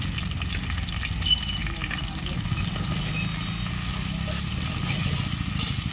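Ground onion paste, along with coriander and curry leaves, fries in a pan for a kavalai fish curry, giving a steady, dense, close sizzle that runs without a break under a speaking voice.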